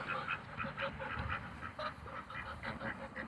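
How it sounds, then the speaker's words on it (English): A female duckling gives a steady run of loud, clear quacks in quick repeated rhythm, close to the listener, with no talking over it. "There, that nice loud quack, that is a girl quack."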